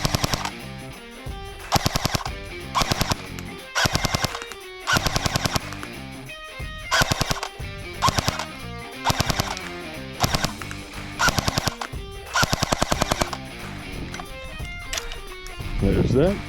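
An AGM Sten airsoft gun fires BBs from the hip in repeated full-auto bursts, each a loud, close rattling chatter, separated by short pauses across the stretch.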